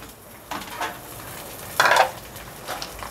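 Half a kilo of mutton browns with onions in a pot, giving a soft sizzle broken by stirring and scraping sounds, with one louder clatter midway.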